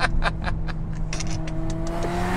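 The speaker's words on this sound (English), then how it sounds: "Listen to the upshift." A 2018 Mercedes-AMG GLA 45 engine runs up through a quick upshift on a back road, with a few sharp exhaust pops at the start and then a steady, rising engine drone heard from inside the car.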